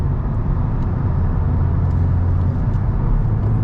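A 2.3-litre, 260 hp Mazda 3 MPS is driven hard under full throttle, heard from inside the car. Its engine gives a loud, steady low drone mixed with road noise, and no voices are heard.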